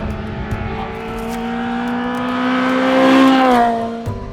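A Honda Integra Type R DC5, a front-wheel-drive Japanese import, is driven hard. Its engine note climbs steadily to a loud peak, then eases off, with a faint tyre squeal and no voices.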